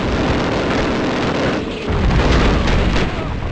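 Mortar rounds exploding in the video game Call of Duty on the battlefield, a loud sustained roar of blasts and rumble with a heavier boom midway, no voices.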